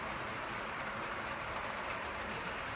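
An HO scale Centipede model locomotive runs around a layout track pulling boxcars, making a steady, continuous rolling rumble and rail hiss throughout with no talking.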